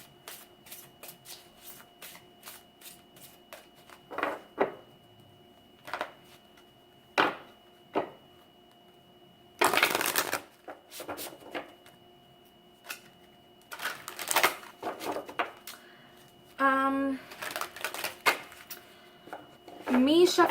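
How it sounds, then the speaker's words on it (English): Tarot cards being shuffled by hand in a quiet room, soft riffles and slaps arriving in irregular bursts, with occasional brief sounds of handling between them. "Me shuffling your cards as of right now"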